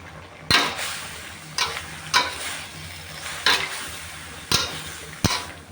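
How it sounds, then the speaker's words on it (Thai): Sliced pork with long red chilies and tomatoes stir-fries over high heat, giving a steady close sizzle broken by sharp, periodic scrapes of the spatula against the pan. "พอผัดคลุกเค้าเข้าไปด้วยกันนะคะ เราเร่งไฟให้แรงได้เลยนะคะ"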